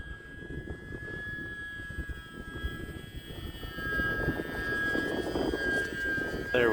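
E-flite UMX Pitts S-1S RC biplane on a 3S battery flying into the wind, its small electric motor a steady whine with a rising buzz as the plane climbs, heard continuously against outdoor wind noise.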